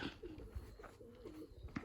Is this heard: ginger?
no